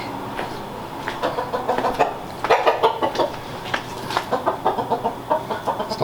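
Backyard chickens near a house cluck steadily and busily at close range. The clucks come in short repeated bursts that grow more frequent toward the end, with no talking.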